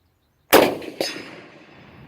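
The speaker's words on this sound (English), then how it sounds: "I'm going to take a shot with this rifle at our steel silhouette down there at 125 yards" A K98 Mauser rifle fires one loud, sharp shot at a steel silhouette target 125 yards downrange, followed about half a second later by a fainter metallic ring of the hit and a fading echo.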